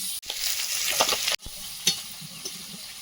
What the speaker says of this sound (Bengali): মাছ ভাজার তেলে আলুটা ভেজে নেব